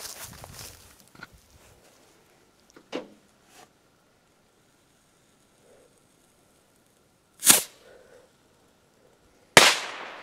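Firecrackers from Pure Factory go off outdoors in two sharp, loud bangs a couple of seconds apart near the end, after a weaker pop early on and faint ambient rustling in between.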